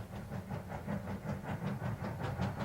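A steam train engine pulls up to a platform with rhythmic chuffing and clattering pulses, fairly faint and distant, repeating steadily without voices.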